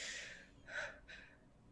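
A person voices a gasping breath, a performed imitation during a spoken horror story. Three close, quiet, airy intakes come in quick succession, each sharp at the start and then fading, with no words around them.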